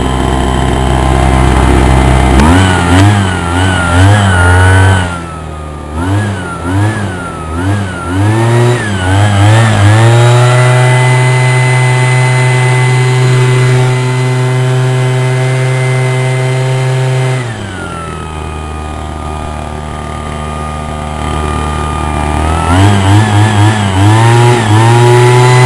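Husqvarna 125 BT backpack leaf blower engine starting, then revving in wavering bursts before settling into long steady high-speed runs with a brief drop in between, very loud and close, no talk.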